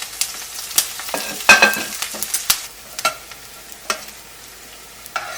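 Onion, ginger, garlic and green chili frying in popped mustard seeds, with sharp stirring scrapes and knocks over a constant close sizzle, no voices.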